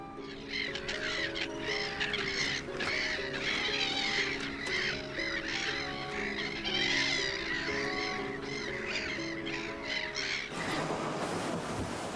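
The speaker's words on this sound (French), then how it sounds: "les mouettes aux chants envoûtants semblent incarner le mythe des sirènes" Seagulls on the wild Mediterranean coast call in a dense, loud chorus of harsh, overlapping cries that continue throughout, giving way to broadband rushing noise at the very end.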